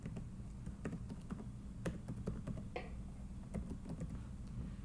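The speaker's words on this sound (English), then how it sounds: "Let us enter a demo email address." Someone types an email address on a computer keyboard, producing quick, irregular key clicks close by against a low steady hum, with no voices.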